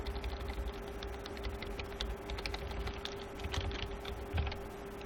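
Steady typing on a computer keyboard, with a dense run of clicking keystrokes at close range over a low background hum, continuing without pause and with no talking.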